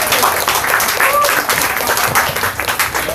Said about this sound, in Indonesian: tepuk tangan buat Master Limba.